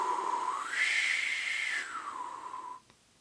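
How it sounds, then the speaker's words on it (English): A breathy trumpeter's breath whistle shaped by an arching tongue slides upward in pitch, holds high for about a second, then glides back down before stopping abruptly; close and alone. "certain players show this arching with a kind of a breath whistle, like this"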